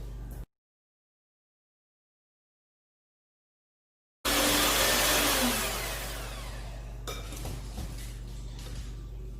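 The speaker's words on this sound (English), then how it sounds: "we've got all that blended up really well" Electric mixer blending pecan pie cake batter in a home kitchen, starting abruptly after a silent gap with a loud whirring burst that settles to a steady hum, with a few clinks against the bowl.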